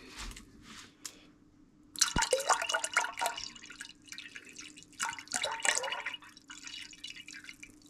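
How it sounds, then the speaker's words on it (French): Water glugging and splashing out of a 2-litre plastic bottle being emptied, close and fairly loud, coming in uneven gurgling surges after a few faint drips. "il n'y a plus qu'à vider la bouteille"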